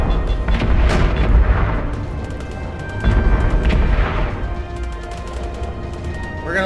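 Battleship destroyed in the Angels Fall First video game, heavy overlapping booms and artillery-like blasts rolling in loud waves, with sharper crackling gunfire bursts toward the end.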